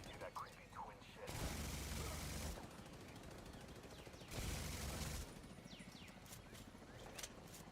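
A minigun fires in Division 2 gameplay, two sustained loud bursts of rapid fire separated by quieter stretches of other game noise, with a voice talking over parts of it.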